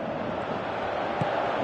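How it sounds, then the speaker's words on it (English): Stadium crowd noise from a PES 2018 football video game match, a steady broad roar of many voices with no clear peaks, filling the whole clip without commentary. "you can hear how the crowd are reacting to this too"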